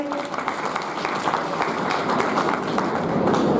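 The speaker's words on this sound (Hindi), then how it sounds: "इनके लिए जोरदार तालियों से इनका स्वागत" An audience at a Rajasthan teachers' union education convention in Bundi claps to welcome a guest, dense, sustained applause that builds slightly toward the end, close and full.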